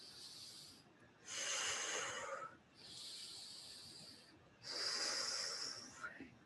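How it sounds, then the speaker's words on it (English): Loud, rhythmic demonstration breathing for labour comfort, three long hissing breaths in and out with short pauses between them, close and alone. "Now, the breathing could look like this."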